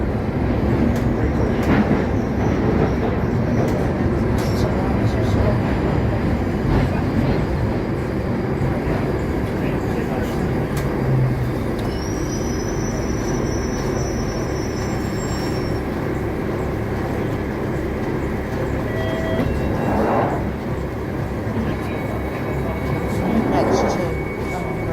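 Loud continuous rumble and roar of a London Underground Northern Line train running through a tunnel, with a faint high squeal at times and voices under the noise.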